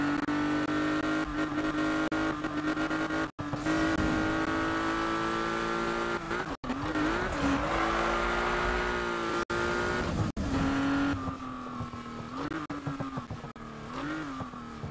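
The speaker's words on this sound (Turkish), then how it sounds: "Motorun sesi güzel geliyor mu?" A car engine in Need For Speed drones and revs steadily in the racing game, with pitch rising and dipping through gear changes, broken by several brief cutouts, loud and continuous without talk.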